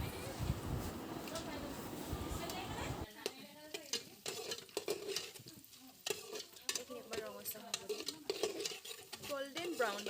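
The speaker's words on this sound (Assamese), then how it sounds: "আৰু এতিয়া কাজু আৰু কিচমিচখিনি লগতে দি ল'ম, অলপ ফ্ৰাই কৰি ল'ম ৰঙচুৱা হোৱাকৈ।" Cashews and raisins frying in a pan for pulao, a faint crackling sizzle with scattered clinks of a spoon, while a person talks throughout.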